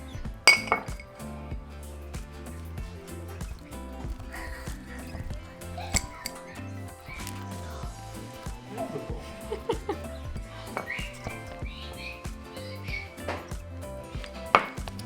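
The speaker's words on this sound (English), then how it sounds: "So now just mix them all together." Butter, sugar, milk and vanilla for cinnamon roll icing being mixed in a bowl, with busy scraping and repeated clinks of utensil against the bowl, close and uneven, with a voice talking at times.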